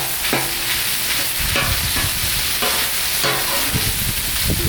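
Gluten-free pasta fries and sizzles loudly on a Blackstone griddle, with a steady hiss broken by repeated scraping and stirring strokes of a spatula, close and with no talking.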